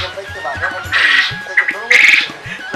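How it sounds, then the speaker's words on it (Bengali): A flock of quail on a quail farm housed in tin sheds chirps and squawks in quick, close bursts, some calls louder than others, with a voice underneath. "খামারটি পাখির কিচিরমিচির ডাকে মুখরিত।"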